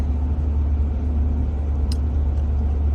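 A plow truck rolls along pavement, its engine giving a steady low rumble and road drone close by, with a brief faint click partway through.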